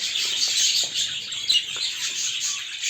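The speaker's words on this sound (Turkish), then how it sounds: "yuvada yumurtaları bayağı bir artan kuşlarımız var" Pet birds in a cage with eggs in the nest give a steady stream of high, thin chirps and twitters throughout, close and fairly even in level.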